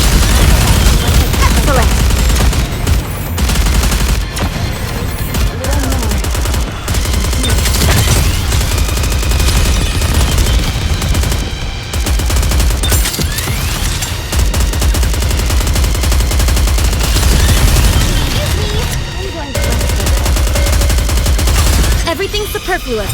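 Sustained, dense gunfire and rapid automatic bursts from the Goddess of Victory: Nikke game fill the whole stretch loudly, with game music and occasional voiced lines layered over the shooting.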